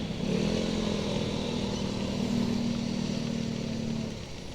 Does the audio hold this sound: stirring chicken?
no